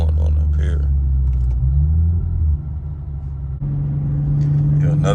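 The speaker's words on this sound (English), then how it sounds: "Like, I hear my intakes just breathing real heavy." Tuned Infiniti G37 engine idling with a deep steady rumble and heavy intake breathing, a brief rise in revs partway through, with voices talking over it.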